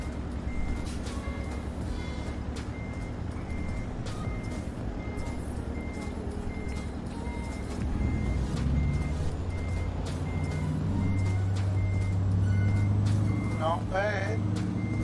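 Reversing beeps from a truck in Euro Truck Simulator 2, a steady repeating electronic tone running under continuous engine rumble, with a rising chirpy alert late on and someone talking over the top.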